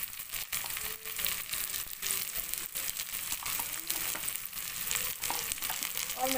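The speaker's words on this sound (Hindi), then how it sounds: "बस ये डाल के इसको अच्छे से हम लोग पका लेंगे मसाले को" Masala with coriander powder, red chilli and salt sizzles and fries steadily in a pan for a mutton curry, a constant close crackle with occasional stirring scrapes.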